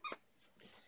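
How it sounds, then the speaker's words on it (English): A dog gives a brief whimper or yip close by during play indoors, one sharp cry at the start followed by quieter, softer noises. "A dog."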